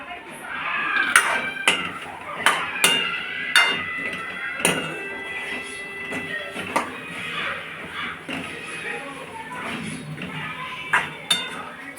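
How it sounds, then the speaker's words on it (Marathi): Whole stuffed brinjals are sautéed in a pan, with sharp metallic clinks and taps from a spoon striking the vessel in an irregular rhythm over a soft frying hiss. "तर आता ही वांगी आपण भरलेली याच्यामध्ये सोडूयात आणि छान अशी आपण परतून घेऊयात."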